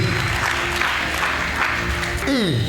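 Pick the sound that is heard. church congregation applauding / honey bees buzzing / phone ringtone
church congregation applauding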